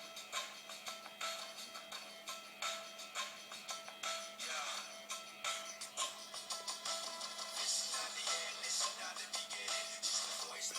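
Music plays from the small rear loudspeaker of a Sony Xperia Tipo phone, sounding thin and fairly faint, with a steady beat of bright percussive hits and no talk over it.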